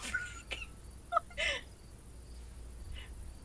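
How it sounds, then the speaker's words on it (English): A honking, gobbling bird call played as a sound effect, a few short bursts near the start and middle, then a fainter call near the end over quiet room noise. "Okay, there's like a duck honk."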